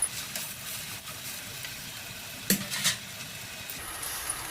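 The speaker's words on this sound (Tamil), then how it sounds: "வெங்காய வடகம் போட்டு தாளிக்கணும்" Oil sizzles and crackles steadily as onion vadagam is tossed into a hot pan for tempering, with a couple of sharper pops partway through.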